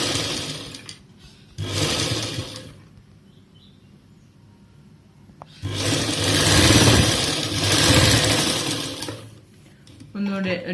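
A home sewing machine stitching a cloth face mask whirs in two steady bursts, a short one and then a longer run, close and fairly loud, with quieter pauses between them.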